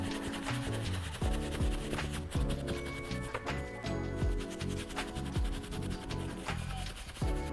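A hat sweatband being scrubbed hard with a foaming cleaner, giving close, repeated rhythmic rubbing and brushing strokes that continue steadily throughout.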